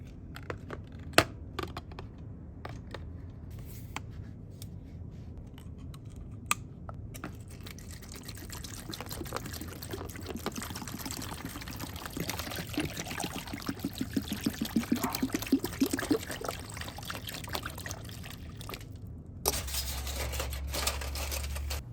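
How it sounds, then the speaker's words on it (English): Fresh hydrogen peroxide poured over a Game Boy Advance shell being restored, a steady liquid pour and trickle building midway, with small drips and handling clicks around it, close and fairly quiet, no talking. "Let's try it again with some fresh peroxide."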